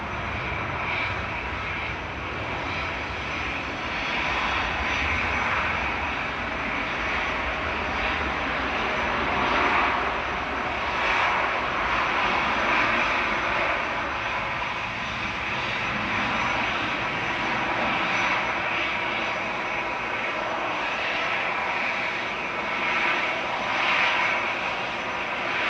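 SAS Airbus A320neo jet departing Manchester Airport for Copenhagen, a sustained broad engine roar rising and swelling in waves over the long takeoff, with no talk.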